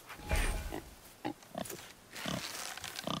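A wild boar in the God of War game grunts and snorts in several short, loud bursts with brief pauses between, close by and with no talking over it.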